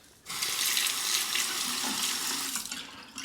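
A tap runs strongly into a sink as a razor is rinsed, a continuous close rush of water that starts abruptly and holds steady throughout.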